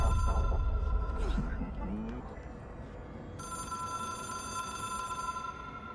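A telephone in the video game Control rings with a steady electronic tone that repeats in the second half, over low ambient rumble and brief talk.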